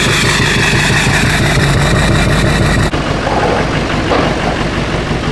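A Duramax diesel truck engine idles rough and loud with a loping, uneven beat, then after a sudden shift in tone it keeps chugging on at close range with no voices.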